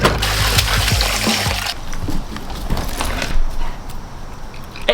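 Water runs and splashes steadily while a Doberman is bathed outdoors, loud and close for the first couple of seconds, then thinning to softer trickling and dribbling.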